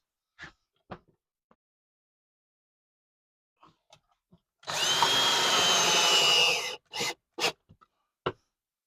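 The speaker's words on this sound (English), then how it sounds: "I'm gonna have a little piece of wood, drill it into here" A power drill whirs into wood for about two seconds, surrounded by scattered knocks and clicks of handling in a quiet room.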